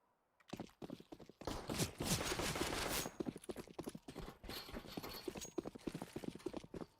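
Grenades and gunfire in a Counter-Strike round, heard as dense, rapid bursts of sharp cracks and clatter, loud and continuous across the whole stretch.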